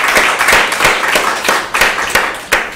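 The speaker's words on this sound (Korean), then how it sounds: "하나님께 박수하셔야 돼요." A church congregation claps together in a steady rhythm of sharp, loud, close claps, about three per second, with no talking over them.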